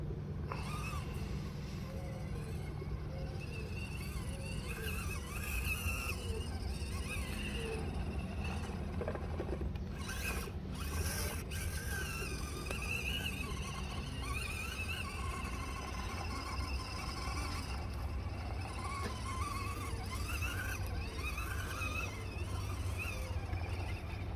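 A small Axial SCX24 Jeep JLU RC crawler grinds uphill along a line, its faint motor whine running steadily throughout with a few brief sharper bursts near the middle, all at a low, even level.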